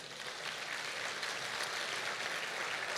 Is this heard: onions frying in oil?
no